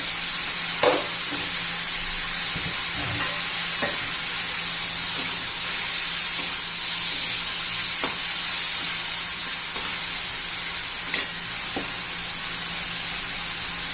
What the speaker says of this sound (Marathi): आता टोमॅटो मऊ होईपर्यंत आपण टोमॅटो शिजवून घेणार आहोत